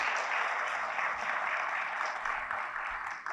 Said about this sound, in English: Let's give Rock Springs staff a round of applause for the wonderful dinner today.